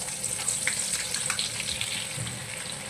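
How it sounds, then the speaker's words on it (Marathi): Chopped onions frying in hot oil in a kadai as the base for chicken biryani, giving a steady, close, even hiss and sizzle with faint crackles and no talk over it. "तेल गरम झालंय. आता आपण हा कांदा ब्राऊन करून घेऊया."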